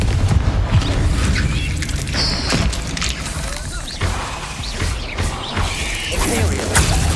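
The Confringo blasting spell in Hogwarts Legacy erupts in dense, rumbling booms and crashes with creaking, mechanical rattles, keeping up a loud, continuous mass of impacts across the stretch, with a voice briefly audible under the din.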